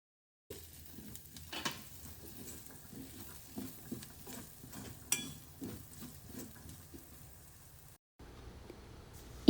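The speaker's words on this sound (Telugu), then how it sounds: "ఇప్పుడు ఈ శనగల్ని ఒకసారి బాగా కలిపి 5 నిమిషాలు ఉడకనివ్వాలి" A spoon stirs chickpeas through a paneer curry in a pan with a quick run of soft, rhythmic scrapes and pats. The scraping then stops and only a quiet low simmer remains.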